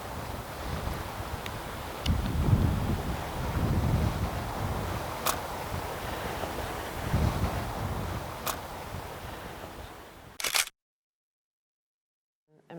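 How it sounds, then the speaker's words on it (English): Ocean waves wash steadily against the shore under gusting wind, with broad surges rising and falling and a few sharp camera shutter clicks before the sound cuts off. "recording the sound of the waves and the water and the wind"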